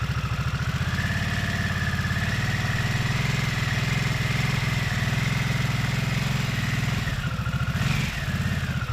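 A 2022 Harley-Davidson Nightster motorcycle engine idles with a steady, deep pulsing rumble, close and constant, with a slight shift near the end.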